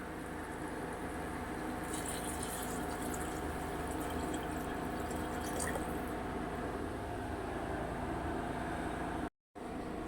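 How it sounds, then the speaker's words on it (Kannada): A steady, full rush of water pouring into a pot of rice, continuous and fairly close, cutting off abruptly near the end. "ಇದಕ್ಕೆ ನೀರು ಆ್ಯಡ್ ಮಾಡೋಣ"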